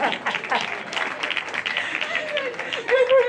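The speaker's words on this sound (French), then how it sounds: "Applaudissez pour vous-même" A comedy show audience applauds and cheers steadily, dense clapping close by, with voices mixed in and a shout rising near the end.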